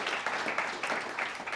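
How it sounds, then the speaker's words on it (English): Audience applause welcoming panel guests at a climate action event, a short, steady wash of many hands clapping at moderate volume with no voices over it. "a round of applause to welcome our guests for being so patient"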